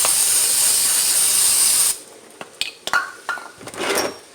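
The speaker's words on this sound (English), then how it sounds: "I want to do is just want to clean up a little bit with the brake cleaner in here." Brake cleaner hisses in a strong, continuous spray onto the front brake caliper of a 1998 Dodge Grand Caravan for about two seconds, then stops, followed by a few sharp metallic clinks and taps nearby.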